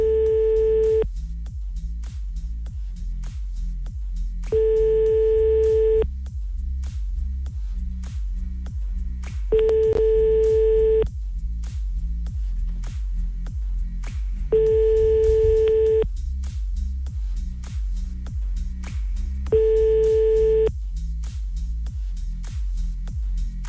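A telephone busy signal on a French radio prank call repeats five times, each steady tone lasting just over a second and spaced about five seconds apart, over a constant low background hum.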